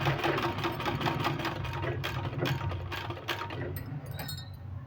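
Sewing machine running steadily while stitching a folded sleeve, a continuous close, fairly loud mechanical whir with rapid needle ticking that eases off near the end.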